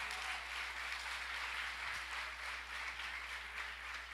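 Steady applause from a church congregation, a continuous wash of many hands clapping at moderate distance, with no voices over it.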